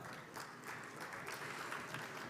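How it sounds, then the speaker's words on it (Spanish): Audience at an Ibero-American summit event in Bolivia applauds for the Spanish ambassador, a brief, faint, steady patter of many hands clapping together. "Un aplauso."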